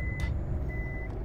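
Reversing beeps from a truck being parked in Euro Truck Simulator 2, a steady high tone over low engine rumble with brief air-brake hiss bursts.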